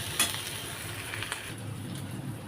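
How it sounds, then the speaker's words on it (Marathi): Chilli, ginger and garlic paste tempering in hot oil in a pan, a quiet steady sizzle with a few faint clinks near the start, close and low, no talk. "आता थोडीशी फोडणी 5 मिनिटं होऊ दे."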